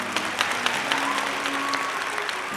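A crowd at an inn applauds a bard, dense clapping with a few sharper claps standing out, close and lively for a couple of seconds without talk.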